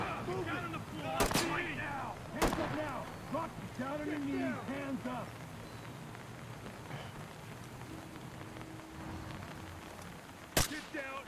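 Gunshots ring out in the tactical shooter Ready or Not: three sharp, loud cracks spaced several seconds apart, with players talking over the game audio in between.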